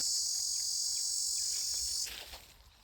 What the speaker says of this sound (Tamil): நான் ஒவ்வொரு முறையும் காட்டுக்குள்ள போகும்போது அந்த வண்டை பார்க்கணுங்கிற ஆசையில அந்த ரீங்கார சத்தத்தை பின்தொடர்ந்து தேடி செல்லுவேன்